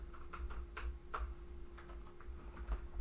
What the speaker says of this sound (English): Now I can type in my text